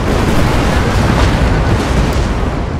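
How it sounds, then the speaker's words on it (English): A barrage of rockets in a Napoleon: Total War battle, a dense, loud, continuous rumble of overlapping explosions with no distinct gaps between blasts. "It's a whole bunch of rockets."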